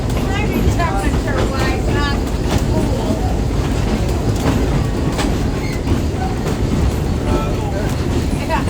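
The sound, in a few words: train ride through the countryside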